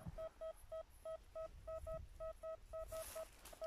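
A metal detector sweeping a field emits a series of short, evenly repeated beeping tones, fairly faint, with soft rustling between them.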